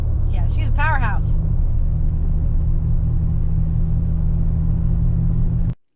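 An old 5-ton truck driving out of dirt under its own power, a loud steady low engine rumble throughout with a person's voice briefly over it near the start, cutting off at the end.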